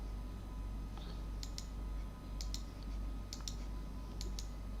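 A computer mouse gives a series of faint, sharp clicks in irregular pairs and singles over a low steady hum, right-clicking to cancel trading orders, with no talking.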